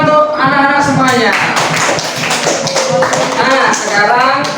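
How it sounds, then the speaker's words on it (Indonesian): Children clap together in a classroom as applause, a dense and fairly loud burst under an adult voice and chatter that continue throughout. "terima kasih tepuk tangan untuk anak-anak semuanya"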